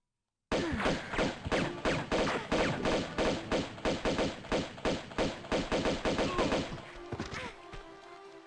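Rapid, loud bursts of pistol fire from Tomb Raider Remastered crack out in quick succession for about six seconds, then taper into scattered shots and ringing echoes.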